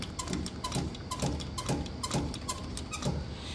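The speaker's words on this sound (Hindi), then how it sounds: "अभी जो है पंप मार के दिखाता हूँ कि कैसी आवाज आएगी" A tractor's diesel fuel pump, just fitted with a new valve, is primed by hand in a steady rhythm of about seven quiet clicking strokes, close and faint.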